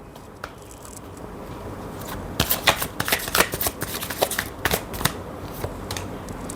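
A deck of oracle cards is shuffled up close, quiet rustling building into a run of quick riffling snaps in the middle of the clip, then settling.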